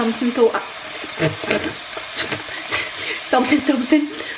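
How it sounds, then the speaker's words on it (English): Tofu, onion and garlic fry in a pan with a close sizzle broken by irregular scraping and stirring strokes, while a voice talks intermittently alongside. "onion and garlic is cooked, tofu is cooking"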